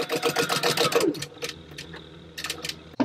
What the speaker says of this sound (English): And then take it back to the sewing machine.